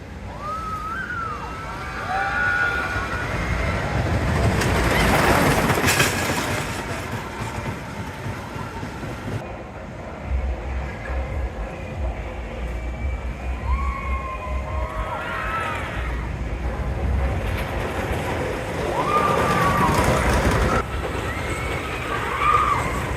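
Riding the High Roller wooden roller coaster at Valleyfair: a steady, close roar of rumbling wheels and rushing wind fills the whole ride, with rising and falling rider screams breaking through now and then.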